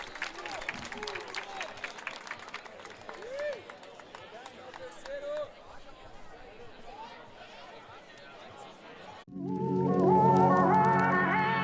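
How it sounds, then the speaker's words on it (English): A stadium crowd breaks into loud, sustained clapping and cheering after a women's football semifinal between Mexico and Brazil, with commentary voices heard beforehand. "Everyone's clapping."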